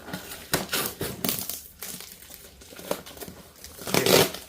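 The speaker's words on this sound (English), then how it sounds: "I'm going to rip it open like a Christmas present because I'm excited" A cardboard box is ripped open, with irregular bursts of tearing and crinkling packaging, close and fairly loud, building to a louder rip near the end.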